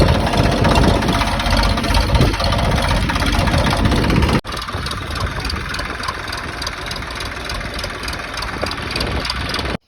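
A tractor engine runs steadily in an open farm field, a loud, close diesel rumble that drops in level partway through and then keeps chugging evenly.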